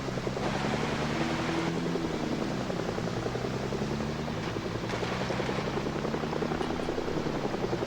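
Helicopter in the video game Project Zomboid, a steady rotor drone with low harmonic hum and broad whooshing wash, continuous and fairly close for the whole stretch with no talk over it.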